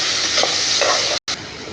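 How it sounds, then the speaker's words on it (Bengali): Potatoes stir-fried in oil with salt and turmeric, a loud, dense, close sizzle that cuts out for a brief moment near the end. "আলুটা ভালো করে লাল লাল করে একটু ভাজি করে নেব।"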